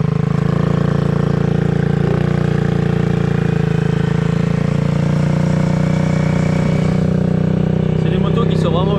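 A motocross motorcycle engine runs steadily nearby at a 24-hour motocross event, a loud, continuous idling drone with a steady buzz that barely changes across the stretch, while people talk over it.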